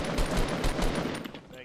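Rapid bursts of automatic gunfire in a Fortnite Battle Royale match, loud and close, several quick volleys in a row before tapering off, with players' voices faintly around it.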